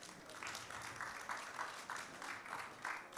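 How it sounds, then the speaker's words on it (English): Steady audience applause at a tech business conference on driving technology across an organisation, a dense, even patter of many hands heard at a distance, with no talk over it. "Big round of applause"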